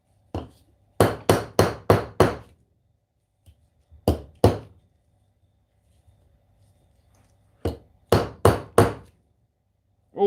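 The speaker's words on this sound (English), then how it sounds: "I'm going to hammer." Brass hammer end striking a steel shock shaft to straighten it, loud close blows in bursts of several rapid hits separated by quiet pauses.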